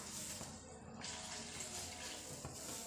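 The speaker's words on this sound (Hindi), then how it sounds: "तकरीबन आधा किलो पानी डालेंगे।" Water poured steadily into a pot of mutton curry on the stove, a continuous close splashing rush that runs the whole time without pause or talk.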